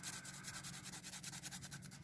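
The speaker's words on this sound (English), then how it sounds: "I'm just going to go about taking a sanding rod and kind of lowering the size of this one joint." A sanding rod works a soldered metal wire joint for a plastic model guard rail, making a very faint, quick, rhythmic rasp of back-and-forth strokes, close up with no talk.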